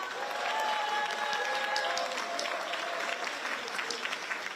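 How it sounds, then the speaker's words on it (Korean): Lawmakers at a parliamentary workshop applaud in a sustained, even round of clapping, with faint voices and a held tone mixed in beneath it. "여러분들의 힘찬 박수로 후반기 국회 대비 국회의원 워크숍을 시작하겠습니다"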